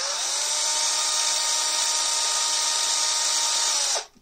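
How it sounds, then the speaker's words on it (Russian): A drill bores out the worn bushing of a rattling fan, a steady, loud high-pitched whine held for about four seconds before spinning down abruptly. "я еще раз сверлю"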